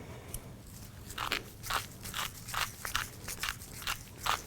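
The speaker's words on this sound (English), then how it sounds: "This is steak and burger seasoning with adjustable grinder" Steak and burger seasoning cranked through an adjustable grinder, giving a run of crunchy, scratchy grinding bursts in a steady rhythm, close and fairly quiet with no talking.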